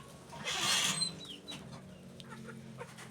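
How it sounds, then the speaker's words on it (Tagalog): Chickens cluck nearby on a farm, starting with a loud burst of squawking and then settling into scattered softer clucks and bird calls. "Nakakatuwa naman ang mga manok dito, oh."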